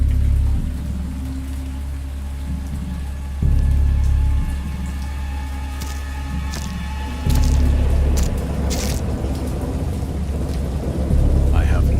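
Thunderstorm in the horror video game Dagon, with steady heavy rain and a deep continuous rumble that swells in stepwise surges, punctuated by sharp crackling strikes near the end, loud and without speech.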